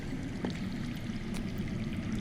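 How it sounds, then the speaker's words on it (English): Water runs underground in a Game of Thrones video game, a steady low rushing and gurgling stream that stays faint and distant, with no talking over it. "I hear water. From underground."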